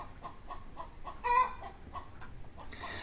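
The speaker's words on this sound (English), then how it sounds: "The chickens are saying hi again." Chickens clucking nearby in a series of soft, repeated short calls, with one louder squawk in the middle, over low background noise and no speech.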